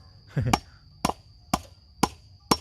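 Nails are hammered into wood during a repair in rural Thailand: five sharp, evenly spaced strikes about half a second apart, close and loud, with no talking over them.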